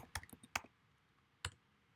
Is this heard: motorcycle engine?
no